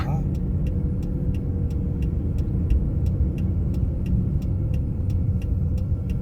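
A car drives on a 2021 Hanyang road driving-test B course, its engine a steady low rumble throughout, with a turn-signal indicator ticking in an even rhythm on top.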